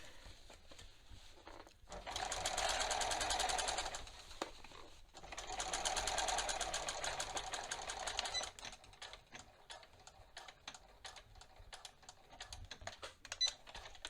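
A sewing machine understitches a waistband facing in two sustained runs, then shifts to a string of rapid, separate clicks and short taps, all close and fairly quiet with no voices.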